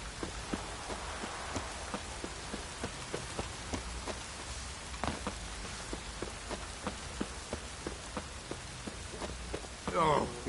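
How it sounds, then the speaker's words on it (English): Drizzling rain in The Witcher 3 patters steadily with a rhythm of soft repeated drops over a quiet ambient bed, ending in a brief louder burst. "Oh, it's drizzling."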